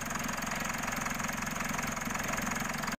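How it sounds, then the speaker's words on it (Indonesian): Diesel 4N15 engine of a Mitsubishi Pajero Sport idling after an injector replacement: an even, rhythmic clatter that holds steady for about three seconds and then cuts off abruptly. "mesin sudah berhasil dihidupkan dan siap untuk dites jalan"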